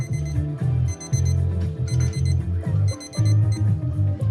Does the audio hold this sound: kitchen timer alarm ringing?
yes